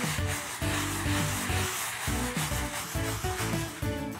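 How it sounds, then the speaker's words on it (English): A stiff brush scrubs an oil stain on a concrete driveway in rapid back-and-forth strokes, a rhythmic rasping that continues steadily and close up. "spray it on the stain, and you're going to let it set for a couple minutes and then scrub it with the brush"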